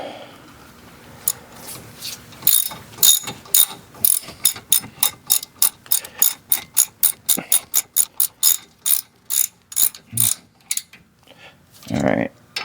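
A hand ratchet clicks in fast, even strokes while tightening brake bolts on a 2021 Ford Escape, close and crisp, with short pauses and a few clunks near the end.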